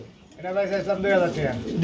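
King pigeons coo in low, rolling bursts close by, while people talk over them.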